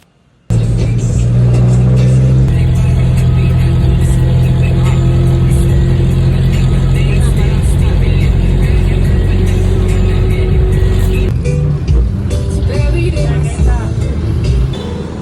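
A loud, steady engine rumble and road noise fill a ride in a Philippine jeepney, continuous and close, with a change in tone near the end.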